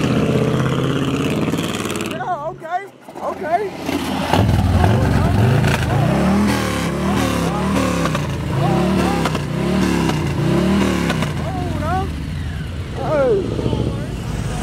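A loud truck at a Jackson, Georgia truck meet revs hard in repeated bursts after a brief lull, the engine rising and falling close by while people talk over it.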